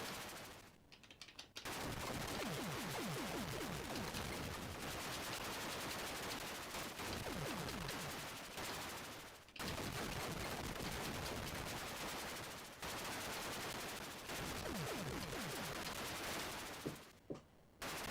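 Retro Atari 8-bit video game shooting: continuous buzzy, rapid-fire electronic shot sounds loop steadily for long stretches, broken by a few brief pauses, with no talk over them.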